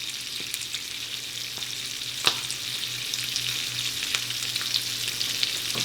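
A sunny side up egg fries in an uncovered pan with a steady, fairly soft sizzle and crackle, a few sharper pops along the way.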